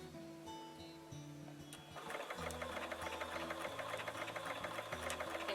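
A Bernina sewing machine runs steadily while stitching hand-look quilting stitches, a quiet mechanical whir that rises into a busier, faster chatter of needle strokes.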